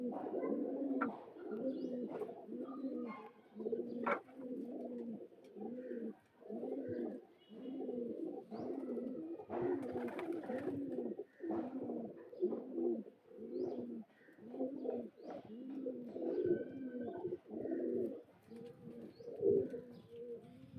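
A pair of Kalanka pigeons coos repeatedly at home, a steady series of low rhythmic coos close by, one call after another with brief gaps and faint background chirps.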